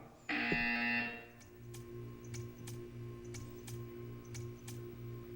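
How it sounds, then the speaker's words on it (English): A buzzer in the video game Portal 2 sounds once, loud and harsh for about a second, then fades into a quiet humming ambience with faint periodic ticks. "When you hear the buzzer, stare at the art."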